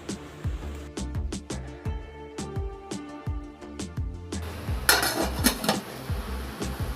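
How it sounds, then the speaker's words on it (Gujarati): A steel dhokla plate of semolina batter clanks repeatedly against a metal steamer pot of hot water, with sharp close metallic knocks and rattles, ending in a louder burst of clattering. "હવે આપણે પ્લેટને ગરમ પાણીમાં મૂકી દઈશું"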